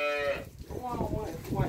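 A dairy cow in a corral in northeastern Brazil lets out a long, close moo, with a person talking nearby.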